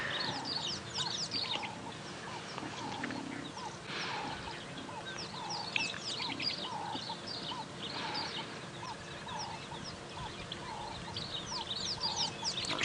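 Small birds chirp and twitter all around at sunrise on a lion-watching safari drive, a dense, continuous chorus of quick repeated calls at moderate distance over a low outdoor rumble, with no talk.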